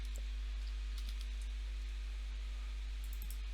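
Light typing on a computer keyboard, scattered soft key taps, faint and irregular, over a steady low electrical hum and background hiss.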